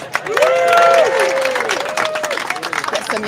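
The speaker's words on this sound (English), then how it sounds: "So let's give them one more big applause." A crowd at the finish of an Atlantic ocean rowing race applauds and cheers for the arriving rowers, with voices and tonal calls mixed into the steady clapping.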